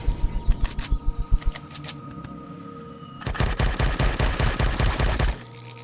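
Gunfire at an alien bug in Empyrion Galactic Survival: a burst of close, sharp shots, a short pause with scattered clicks, then a longer sustained automatic volley that stops abruptly.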